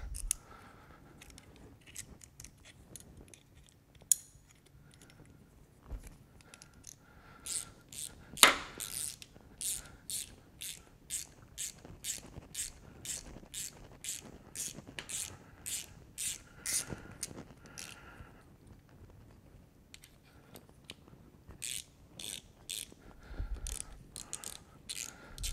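A socket extractor turns out a rounded, broken bolt, held with small Knipex pliers, giving quiet clicking ratchet strokes in steady runs with occasional sharper metallic snaps and low handling bumps, no speech.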